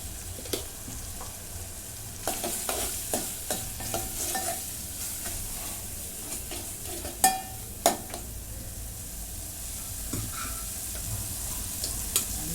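Onion greens and cowpeas sauté in a pan, with a low steady sizzle broken by repeated close spatula scrapes and knocks at an irregular pace.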